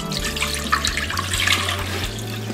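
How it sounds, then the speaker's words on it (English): Water from a tap pours steadily into a cooking pot to measure out four cups for boiling rice, a continuous close rushing and splashing with no talking. "Right now I'm gonna pour 4 cups of water"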